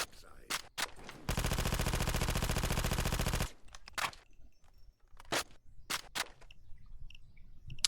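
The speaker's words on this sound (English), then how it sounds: "Now it's suppressed M4." Suppressed M4 rifle fire in the video game Payday 2: one sustained rapid burst of evenly spaced muffled shots lasting about two seconds, framed by several sharp single shots before and after.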